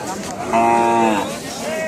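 Cattle at a cattle market, with one close, loud moo lasting about a second over busy crowd background noise.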